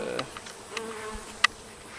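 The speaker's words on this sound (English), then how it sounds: "I think by accident I caught a swarm while we were in there" A swarm of honey bees caught by accident among open stacked hive boxes, giving a faint steady buzzing with a few brief insects passing close and one sharp nearer buzz.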